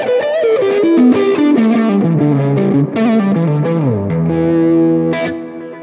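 A bluesy electric guitar phrase, loud and close with distortion and chorus-like effects, played as a flowing run of sustained notes that slides down and rings out.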